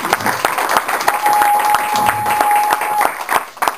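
A church congregation at a French-language service claps in a steady, rhythmic beat, the applause close and lively for a few seconds.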